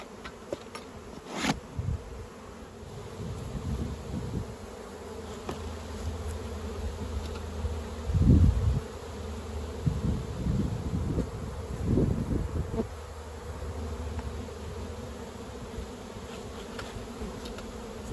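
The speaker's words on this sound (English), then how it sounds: "shaking those bees off that excluder into the brood box" Honey bees drone steadily around an opened beehive during autumn work, a continuous close buzz with louder swells as bees are shaken from the queen excluder into the brood box, over faint wind rustle.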